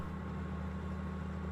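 A tractor engine in Farming Simulator 17 drones steadily under heavy load, a low continuous hum with a strained, even tone held throughout, alone with no talking.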